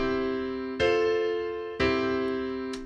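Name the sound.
chord progression played, original version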